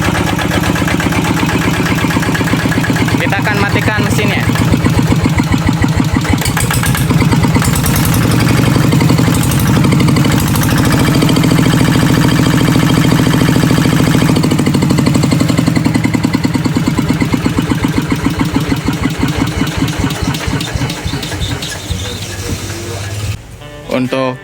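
A small diesel engine running on biodiesel made from used cooking oil keeps up a loud, steady, close rumble with a regular chugging pulse, then winds down and cuts off near the end.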